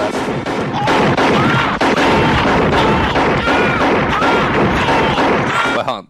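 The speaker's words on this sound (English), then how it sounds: "They just keep shooting him in the vest." Gunfire in a film scene, rapid bursts of loud shots cracking over one another in a dense volley, close and sustained for several seconds with a faint voice under the noise.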